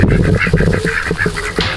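Ducks quack repeatedly inside a barn, a loud, close, choppy run of honking calls overlapping one another with no talk.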